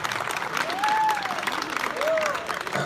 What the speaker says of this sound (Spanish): Le damos la bienvenida, que se escuche ese aplauso.